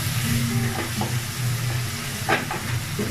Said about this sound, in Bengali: এখন কিছুক্ষণ কষিয়ে নিচ্ছি